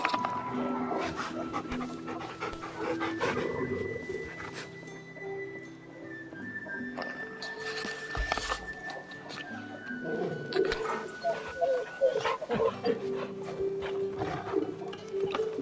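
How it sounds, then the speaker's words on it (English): A dog in the Final Fantasy XVI video game pants steadily for several seconds, with faint game ambience, tonal music and a few thuds around it; no clear barks stand out. "I love this dog."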